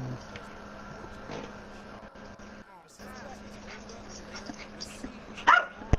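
A dog barks and whimpers indoors at moderate distance, with a few sharp yips near the end over a low background hum. People talk around it.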